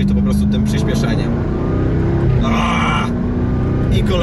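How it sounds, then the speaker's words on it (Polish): A Jaguar F-Type R with a 5.0 V8 rumbles loudly while driving, its exhaust giving a sharp pop amid the engine drone, with someone talking over it. "I kolejny strzał z wydechu."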